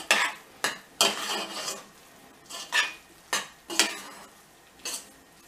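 A spoon clanks and scrapes against a pot while bulgur pilaf is stirred, in a string of sharp, close, irregular scraping strokes with short pauses between them.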